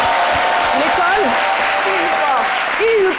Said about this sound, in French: Merci d'applaudir Iupa qui était avec nous pendant cette émission.